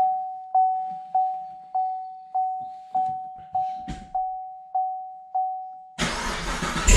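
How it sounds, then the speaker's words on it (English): A car's chime dings evenly about nine times in a quiet cabin. Then the engine cold-starts with a loud crank and roar that fills the last second. "Let's get that cold start."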